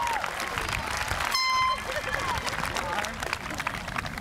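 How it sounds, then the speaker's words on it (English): Audience hand clapping at a 2010 high school commencement ceremony, a rhythmic group clap filling the hall alongside crowd murmur, with a brief whistle-like tone and cheering partway through. "That's the official Spain hand clap"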